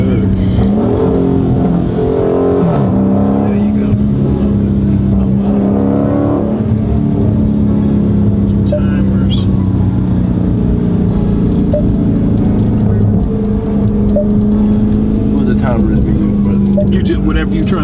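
Deep throaty rumble of a Dodge Scat Pack V8 held on launch control, loud and continuous with slight revving swells, while people talk over it nearby.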